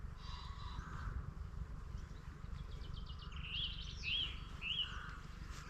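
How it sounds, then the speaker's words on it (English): Song thrushes and curlews call faintly on the fells of Northumberland, with a few clear rising whistled notes coming through a low background hiss of wind and walking. "we're being serenaded by song thrushes and curlews"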